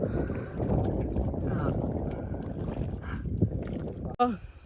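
A boat crosses the Sutlej river with a steady rushing wash of water and wind, close and continuous, while someone talks throughout and a sharp knock sounds near the end.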